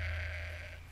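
A sheep-like meep creature in the Oddworld: Munch's Oddysee video game lets out one short, nasal bleat, close and clear against a steady low hum.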